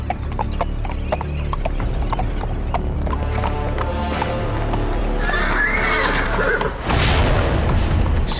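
A horse in a Maharana Pratap historical drama neighs and whinnies while hooves clip-clop, loud and close, with a dull boom and a sudden louder burst of noise near the end.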